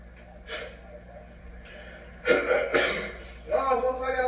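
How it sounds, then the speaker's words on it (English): A few harsh, rough coughing bursts in quick succession, close and fairly loud, with breathy pauses between them. "You coughing uncontrollably, bro."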